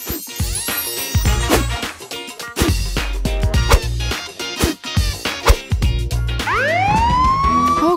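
A loud police siren wails over clattering, busy sound, its rising tone sweeping clearly upward near the end.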